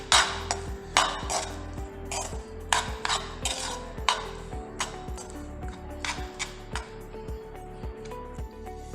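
Semiya vermicelli being mixed into masala in a pan, with steady, rhythmic clinks and scrapes of a spoon against metal, close and fairly loud, with no talking.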